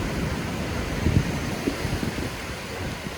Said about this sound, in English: That's how strong the wind is.